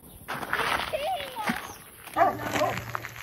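A dog gives short whimpering yips and small barks close by, with shuffling movement in the background.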